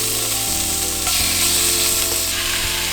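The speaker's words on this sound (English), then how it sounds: "we just wanted to like saute it, get that aroma to come out" Chopped onion and pork sautéing in a hot pan, a constant close sizzle with light scraping and stirring throughout, loud and alone without talk.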